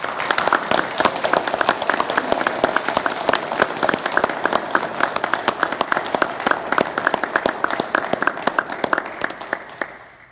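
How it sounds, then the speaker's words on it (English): Clapping at a ceremony honoring Rev. Thomas Bell as Man of the Year, a sustained round of clear, individual claps from a modest crowd that rings for about ten seconds before tapering off. "Now that's probably the best round of applause I'm going to get."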